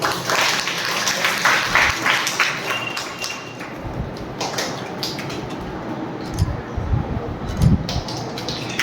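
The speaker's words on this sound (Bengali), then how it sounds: "একটু হাততালি।" A seated audience gives a round of applause at a society talk event: scattered claps mixed with some room noise and a few knocks. The clapping is heaviest at the start and thins out afterwards.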